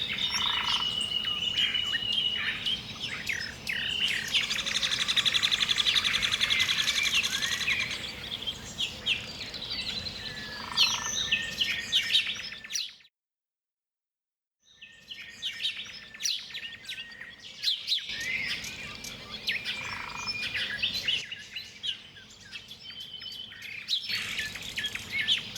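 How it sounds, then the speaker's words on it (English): Forest ambience with many birds chirping and singing from various distances, bright overlapping calls over a soft background hum, broken by a brief complete silence midway before the birdsong resumes. "Birds move around you, leaves whisper behind you, and the forest becomes a living space."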